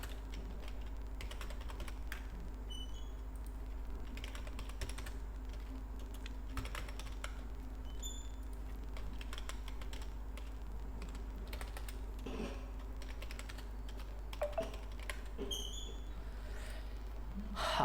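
Steady typing on a computer keyboard while entering text into an Excel spreadsheet, with a continuous stream of close, fairly quiet key clicks and occasional mouse clicks over a low background hum, and no talking.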